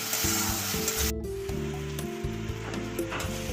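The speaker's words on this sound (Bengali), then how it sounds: "আদা রসুন দিয়ে ভালো করে একটু ভেজে নিতে হবে যাতে কাঁচা গন্ধটা একদম চলে যায়।" Ginger and garlic sizzle steadily in a hot pan over a medium gas flame, with stirring clatter and scraping against the pan. No one speaks.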